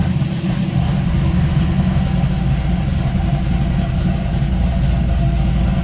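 A 2010 Corvette Z06 on stock mufflers idles with a loud, steady, loping rumble, heavy in the low end and alone throughout.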